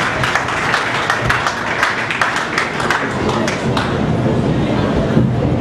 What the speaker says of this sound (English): give a clap offering unto the Lord